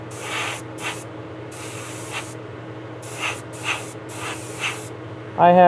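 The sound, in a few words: spray painting a model locomotive car at low pressure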